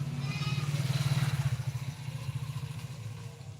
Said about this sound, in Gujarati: જો બાઇક નીકળી